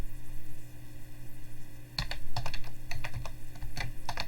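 Quick, close keystrokes tap on a computer keyboard in an irregular burst of about a dozen clicks over a low steady room hum.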